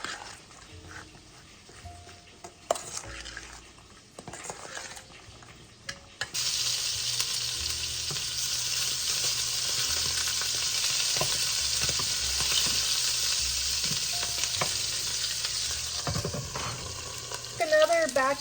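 Food fries and sizzles in a pan during a quick creamy garlic chicken recipe, a steady loud hiss that swells in after a few quiet seconds of kitchen clatter, with a dog whimpering faintly nearby.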